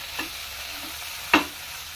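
Food frying in a pan while cooking garelu pulusu, a quiet steady sizzle with a couple of brief louder crackles or stirring sounds, no voices.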